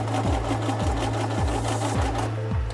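A sewing machine stitching through a leather sunglass case, a steady loud mechanical hum with regular thumping needle strokes about twice a second, close and continuous without talking.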